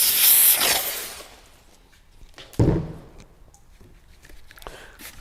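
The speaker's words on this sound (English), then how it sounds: "give everything a fine mist" Pet cleaner misted over a car interior gives a loud, close spray hiss for about a second, followed by a quieter stretch with a sharp thump and faint rustling.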